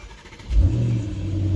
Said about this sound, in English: Car started up perfectly fine. Started up nice and loud